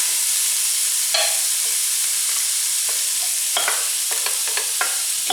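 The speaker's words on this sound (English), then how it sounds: "I'm going to first saute the onions while scraping up the fond" A large, roughly chopped onion sautéing in a pan while the browned fond is scraped up, a loud steady sizzle punctuated by scraping stirs and clinks, with no talking.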